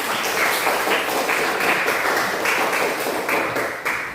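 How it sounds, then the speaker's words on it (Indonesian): Students in a classroom give a steady round of applause, a dense, even patter of clapping that holds for several seconds before easing off slightly at the end. "berikan tepuk tangan"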